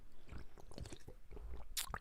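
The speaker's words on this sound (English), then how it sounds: "That's just me drinking my water." Close-mic gulps and swallowing of drinking water, soft wet mouth sounds and small squishy clicks in a quiet room, with no talking.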